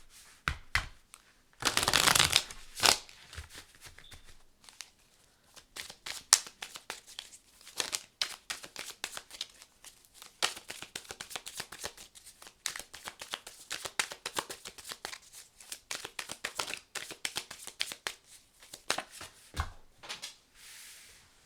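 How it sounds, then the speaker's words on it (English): Tarot cards being shuffled by hand in rapid riffles and soft crisp slaps, a dense burst early then a long run of quieter flicks and taps, close and clear with almost no talking. "One more shuffle."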